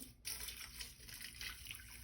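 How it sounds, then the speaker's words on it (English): Distilled water is poured over rose hips in a pot, making a faint, steady trickling pour with no talking. "now I'm just gonna put some water"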